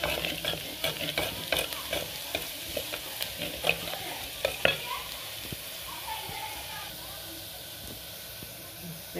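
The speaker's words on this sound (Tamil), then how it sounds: "இந்த வெங்காயம் வதங்கிக்கிட்டு இருக்குது." Onions sauté in a clay pot with a steady hiss and sizzle, a spoon scraping and stirring in frequent soft strokes, close and fairly quiet, while someone talks over the cooking.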